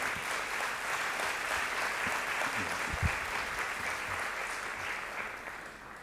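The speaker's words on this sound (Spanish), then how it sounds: "Solicito para él un aplauso y deseos." Conference hall audience at the CLAD 2019 congress in Buenos Aires applauds the newly elected council president; even, moderately distant clapping throughout, with a couple of low thumps midway.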